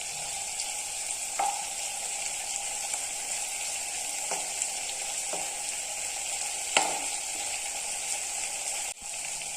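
Shrimp (prawns) frying in coconut oil in a pan, a steady bright sizzle throughout with a few soft stirring knocks and clinks, close and continuous with no talking.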